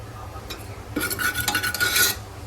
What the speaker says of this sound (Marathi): त्याच्यामध्ये मी ही मोहरी टाकते आहे, ही थोडी हिंग टाकते आहे